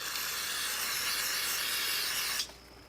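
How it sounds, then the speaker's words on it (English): A steady, loud spray of carburetor cleaner hisses continuously for over two seconds on a Yamaha carburetor, then cuts off abruptly, leaving a quiet background. "So I'll start by just spraying this whole thing down,"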